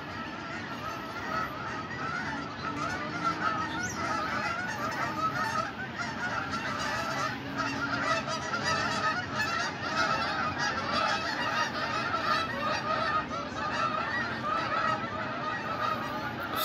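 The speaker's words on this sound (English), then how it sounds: "It's the battle of geese." A large flock of geese honks continuously, many overlapping calls forming a loud, busy chorus with no voices.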